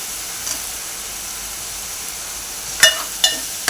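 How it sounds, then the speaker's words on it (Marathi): Tomato and curry leaves sautéing in a hot pan for a spicy wet bombil (Bombay duck) curry give a steady, soft sizzle and hiss, with two sharper clatters of stirring near the end. "टॉमॅटोला हे परतून घेऊया"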